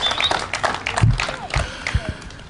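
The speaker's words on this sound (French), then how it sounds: "J'ai besoin d'avoir un tonnerre d'applaudissements pour ces jeunes s'il vous plaît." An audience applauds young slam poetry performers, a short burst of scattered clapping from a crowd with a voice speaking over it.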